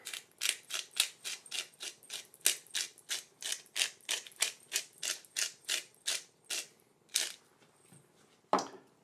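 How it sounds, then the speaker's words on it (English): Black pepper being ground finer for a seasoning, heard as a steady run of about twenty crisp, rhythmic grinding clicks close by, followed by a couple of louder isolated cracks near the end, with no talking. "I am going to use quite a bit of pepper. And I'll make it a little finer."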